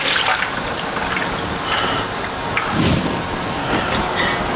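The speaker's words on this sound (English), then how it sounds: "It's already been dissolved in 2 cups of water. We're going to pour it into our bottling bucket." Priming sugar dissolved in two cups of water poured into a plastic bottling bucket while home brewing a Pacific Coast IPA, a steady close liquid splashing and trickling throughout with no talk.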